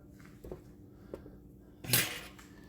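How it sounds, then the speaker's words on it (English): A Chefman Turbo air fryer's basket is pulled out and the food turned over, giving a few soft clunks and then a brief rattling metallic scrape, close and fairly quiet. "I'm gonna take them out and turn them over."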